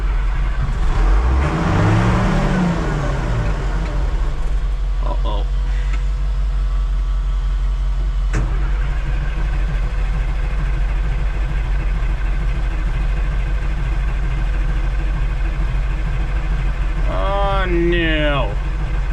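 A 6.0 diesel pickup truck engine idling steadily with a strong low rumble, with a few brief revs above it. People talk over the engine at times.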